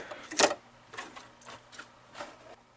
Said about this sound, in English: What the automatic bar tack is going to do is it's going to sew 3 rows of stitches up and down